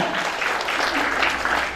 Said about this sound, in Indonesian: berikan tepuk tangan yang meriah kepada Bapak Ibu semuanya